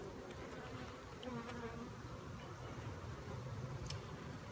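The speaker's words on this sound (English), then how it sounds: "have bees all over my hands here" Honey bees buzzing around a hive during an inspection, a dense continuous drone close to the ear with individual bees whizzing past, faint but unbroken throughout.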